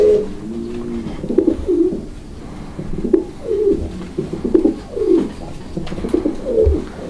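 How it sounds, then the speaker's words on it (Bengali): A pair of fancy pigeons on a pigeon farm coo in repeated soft, throaty phrases, rising and falling close by with short gaps between calls and no talking. "আমরা এই মুহূর্তে দেখতে পাচ্ছি এখানে এক জোড়া কবুতর"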